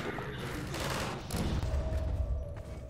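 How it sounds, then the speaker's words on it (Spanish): Gunfire in the video game Half-Life 2, a burst of rapid shots and impacts over about three seconds, fairly faint in the game mix. "Disparando."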